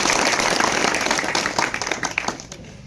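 A crowd gives loud, sustained applause for MLA Abhijit Aba Patil at a felicitation event, dense clapping from many hands that thins toward the end.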